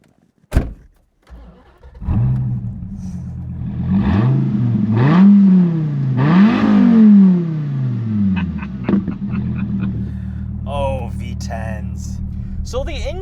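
A 2008 Dodge Viper ACR is driven off, starting with a sharp knock. Its engine rises in pitch and falls again with each gear change, a loud, close, continuous drone with some brief light sounds near the end.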